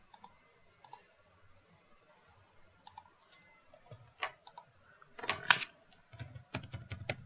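Fingers tap on a computer keyboard in short irregular bursts, soft at first and then faster and louder, close to the listener.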